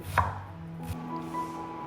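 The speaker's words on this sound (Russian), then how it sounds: "На мелкий кубик нарезаю 2 луковицы." A knife dices two onions into small cubes, giving a couple of crisp, close chops on a board. The chops are spaced apart over quiet kitchen background.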